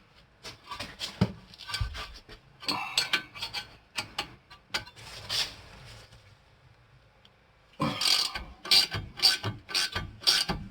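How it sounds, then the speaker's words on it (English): A ratchet with a 15mm socket works the rear brake caliper bracket bolts on a 2013 Ford Fusion, quick bursts of close metallic clicking in uneven runs with short pauses between strokes. "take your 15mm and take off the housing bracket"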